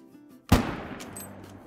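A single sharp rifle shot at a blackbuck in a hunting game, a loud crack that breaks a quiet outdoor ambience and leaves a short rolling echo tail.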